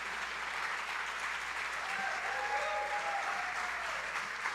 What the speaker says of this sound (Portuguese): eu queria que você pudesse aplaudir Jesus para a gente receber a pregadora dessa noite